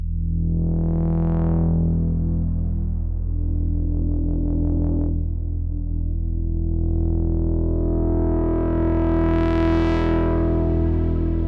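A sustained Moog Subsequent 37 synthesizer tone with thick harmonics swells and sweeps in pitch, wrapped in a bright, shimmering Valhalla Shimmer reverb tail at a low mix that rises high above the notes.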